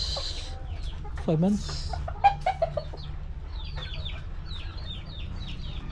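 A four-month-old stag, a young rooster in a backyard farm, gives soft, scattered clucks and brief calls close by over a low steady background hum, with a few words spoken.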